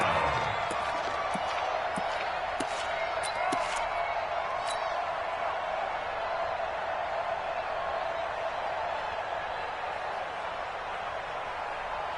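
Football stadium crowd in the fourth quarter ahead of a big third down, a broad steady roar of cheering that holds loud and even throughout, with scattered claps and sharp bursts popping out of the din early on.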